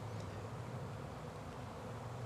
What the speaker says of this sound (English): the whole frame is covered with bees